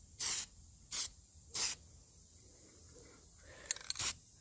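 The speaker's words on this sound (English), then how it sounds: "So just kind of spray a little bit of this on there." Frosted glass coating sprayed from an aerosol can onto an HO scale model locomotive shell, three short bursts of hiss followed by a few quick puffs, close and clear with nothing else heard between them.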